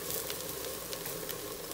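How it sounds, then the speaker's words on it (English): Mushroom, onion and garlic frying in a pan, a steady close sizzle with faint crackles running throughout. "you want to cook your mushroom, onion, and garlic down until they're pretty brown"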